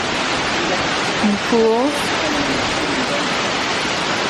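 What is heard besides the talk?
waterfall at Middleham Falls, Dominica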